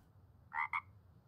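A frog in the video game Tales of Autumn gives two quick, bright croaks back to back, clear and close over a quiet low hum.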